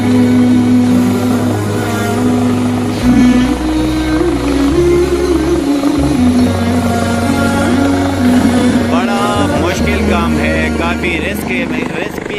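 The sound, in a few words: rescue helicopter hovering at chair lift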